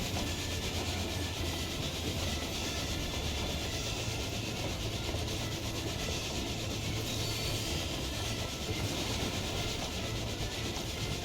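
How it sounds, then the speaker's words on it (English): Constant loud rumbling and grinding of a train in Final Fantasy XIV, an unbroken wall of rolling clatter close by with no speech. "I'll just be up here punching a train"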